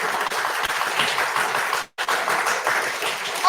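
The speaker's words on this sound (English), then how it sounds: "let's clap a little bit." A church congregation claps hands together in sustained, lively applause, with a brief pause partway through before the clapping resumes just as strongly.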